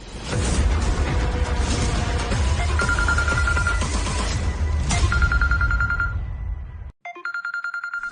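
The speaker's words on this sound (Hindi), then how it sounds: "फोन बजता ही रहेगा क्या?" A phone rings with a repeating electronic trill over a loud, busy background. After a brief cutout, the ringtone continues in clear, regular bursts.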